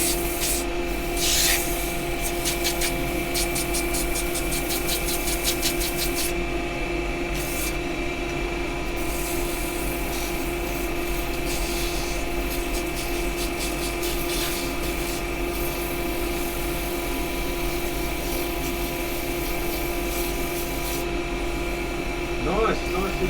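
A wooden mallet spins on a woodturning lathe while 180-grit sandpaper is held against it. A continuous close, steady rubbing hiss runs over the lathe's motor hum and tonal drone throughout.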